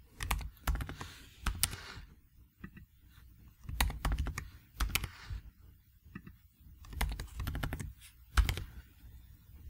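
Bursts of rapid keystrokes on a computer keyboard, close and fairly quiet, come in clusters of clicks separated by short pauses while renaming transformers in a calculator program.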